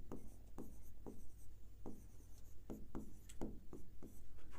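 Pen or pencil writing out a geometry solution by hand on paper, a steady series of short close scratching strokes with brief pauses between words.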